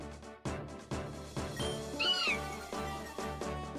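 The Skitty Pokémon cry from the video game Pokerogue, a short high catlike chirp over steady looping game music with regular beats, heard alone without talk.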